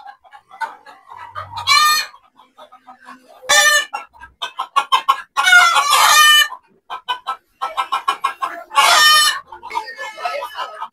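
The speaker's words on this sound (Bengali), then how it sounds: "কত শব্দ করতেছে দেখছেন, দেশি মুরগির শব্দ আলাদা।" Rooftop flock of native deshi chickens, loud and close, with repeated clucking broken by several long crowing calls from roosters, the bursts overlapping in a busy, uneven rhythm.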